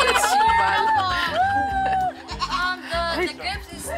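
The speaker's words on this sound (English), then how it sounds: "By the entrance, you can see that there's a goat here with us." A goat bleats at the entrance of a grape farm, with several wavering calls close by, mixed in with crowd chatter and people talking throughout.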